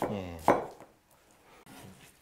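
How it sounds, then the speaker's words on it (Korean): A knife cuts through a halved onion on a cutting board in a home kitchen, giving a couple of sharp chopping knocks followed by quieter taps at low volume. "양파는 반을 갈라주시고, 한 이거는 1cm 정도 두께로 채 썰어주세요."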